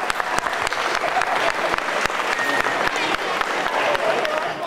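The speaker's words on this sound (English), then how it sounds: "Give them a round of applause, and then everybody stand up" A crowd at a school spring concert gives class leaders a round of applause: dense, steady clapping from many hands, fairly loud and continuous, with some talking underneath.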